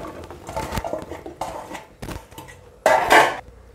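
Jackfruit pieces tumble into a pressure cooker as a few clattering knocks of chunks against the metal pot, ending with a louder cluster of rattling thuds, no talking.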